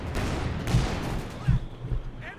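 Walking Stuka rocket artillery fires in Company of Heroes 2, a pair of deep booming launches about a second apart over dense continuous battle rumble and hiss, with a voice talking faintly underneath.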